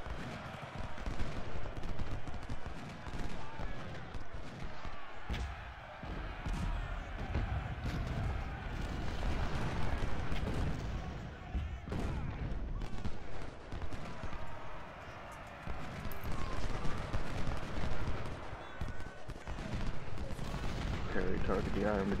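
Massed musket volleys and artillery fire from a Civil War battle game set at Antietam, a dense, continuous crackle of gunfire with heavy booming shots throughout, with no one speaking over it.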